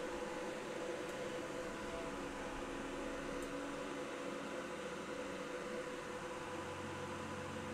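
An air compressor or airbrush spray booth runs while a Transformers figure is being customised, giving a steady broadband hiss and hum with a low rumble that shifts near the end, continuous and moderately close.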